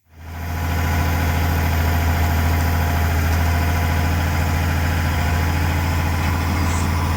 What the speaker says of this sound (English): Letting the motor run,